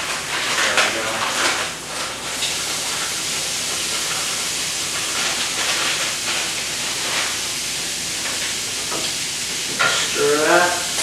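Sausage sizzles and hisses steadily in a hot pan while a utensil stirs and scrapes it. The frying noise is loud and continuous, with occasional brief voice sounds.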